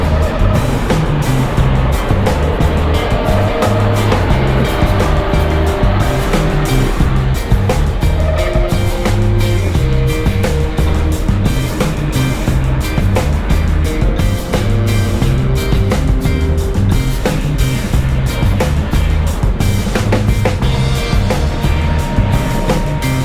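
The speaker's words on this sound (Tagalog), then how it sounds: "Medyo madalas ang traffic dito ngayon sa Mindanao Avenue." Heavy road traffic rumbles along Mindanao Avenue, with large vehicles passing close by a road cyclist on an aero road bike, a loud continuous roar of engines and tires mixed with wind noise.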